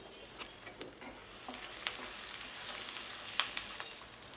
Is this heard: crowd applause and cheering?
no